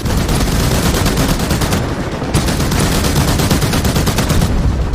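Intense automatic gunfire in the DCS World combat flight game, during a helicopter attack on high-altitude mountain bases: a continuous, loud rattling stream of rapid shots with no pauses, close and overwhelming.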